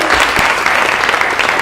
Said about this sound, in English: Yep, you can clap for them.